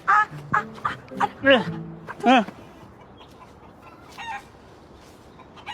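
Chickens cluck in several sharp bursts up close, then a rooster's crow-like call rises briefly before the sound fades into quiet background noise.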